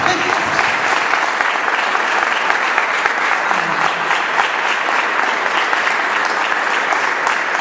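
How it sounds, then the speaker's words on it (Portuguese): Loud, sustained applause from a church congregation responding to a pastor's call, dense steady clapping filling the whole stretch without pause or fade, with some faint voices blended in. "Você pode dar uma salva de palmas ao Senhor? Bem forte."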